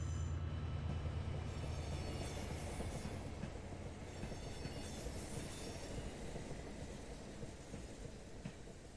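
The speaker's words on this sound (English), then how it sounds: "the first train to arrive is the 1401 TransPennine Express service to Scarborough from Liverpool Lime Street" A TransPennine Express service from Liverpool Lime Street to Scarborough, hauled by class 68 locomotive 68028, pulls into Huddersfield station with a loud, sustained rumble of wheels and rolling stock, and faint squeals from the rails, with no voices.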